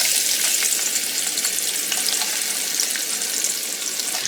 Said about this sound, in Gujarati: મીડિયમ ગેસ ઉપર આપણે એને થોડી શેકી લઈએ